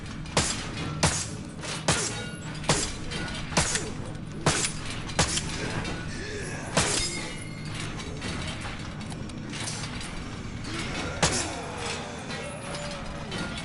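Gunfire in the video game Torment Souls 2 as enemies are shot: sharp shots come in a quick, fairly regular series, with mechanical clicks and clatter between them at a steady level.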